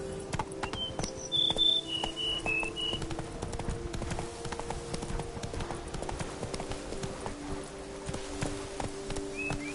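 A horse gallops in the video game The Witcher 3: Blood and Wine. Steady rhythmic clip-clop hoofbeats run throughout against soft outdoor ambience with a few chirping bird calls early on.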